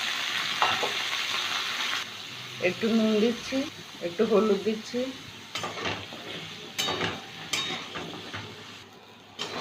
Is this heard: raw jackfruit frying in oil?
yes